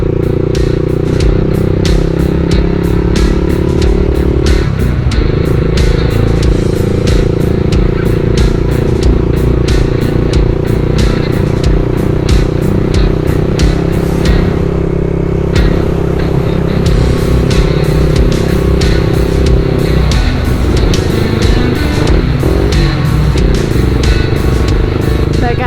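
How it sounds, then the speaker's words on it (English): Loud 1990 Honda GB500 motorcycle engine roaring steadily while riding through a downtown area, with gear shifts and revving swells and a constant rumble of road noise throughout. "especially when a bike sounds this good"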